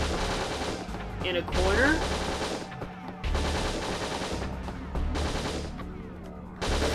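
Shotgun fire in the Winback video game, with heavy repeated blasts and echoing gunfire between short lulls. Someone speaks briefly over the action.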